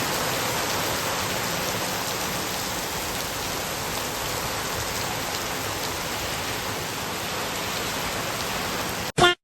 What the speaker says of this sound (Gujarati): જોતો વરસાદ પડે